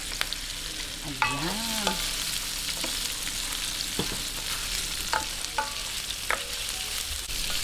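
Pork sautés in a pan for pancit miki guisado, a steady close sizzle with a few sharp clicks and scrapes of a stirring utensil. A voice briefly says a single word.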